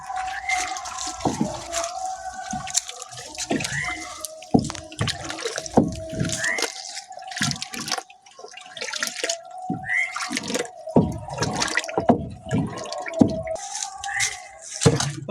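Jeevamirtham liquid fertilizer with erukku leaves is stirred and splashed in a barrel, giving irregular wet sloshes and drips close by, with a few quieter pauses between bursts.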